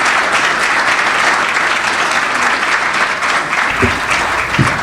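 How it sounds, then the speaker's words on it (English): A conference audience applauds after a keynote speech at a summit, dense sustained clapping from a large crowd filling the room evenly and loudly throughout. "So give her one more round of applause."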